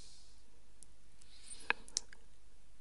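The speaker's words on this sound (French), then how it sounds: "touche Z du clavier" A couple of sharp, close clicks from a computer keyboard as the Z key is pressed, standing alone over faint room hiss.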